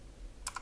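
A couple of quick, soft keystrokes on a computer keyboard, faint and close, over a quiet background hum.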